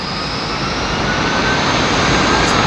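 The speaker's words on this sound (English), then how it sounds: "the aircraft has requested a 20-mile extended approach" An aircraft on a long extended approach roars loud and steady, a broad continuous jet-engine rumble and hiss that swells slightly as it nears, with no voices.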